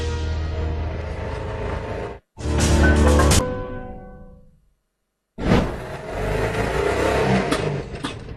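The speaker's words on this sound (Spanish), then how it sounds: "Escuchen el sonido particular de esta solución a la contaminación. Es un auto que funciona con aire comprimido." Compressed-air-powered car running and accelerating nearby, two loud bursts of engine-like whooshing and revving separated by a short silence, the second fading out after about a second, then a third sustained stretch with no talk.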